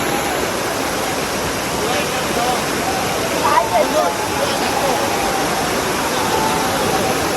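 A waterfall among hills roars in a steady, loud, broadband rush that never lets up, with faint voices now and then beneath it.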